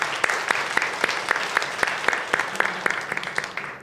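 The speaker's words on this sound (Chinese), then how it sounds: "好，拍拍手。" Church congregation clapping together during a Sunday Mandarin service, a steady unison beat of sharp hand claps roughly four per second, close and even, with no talk over it.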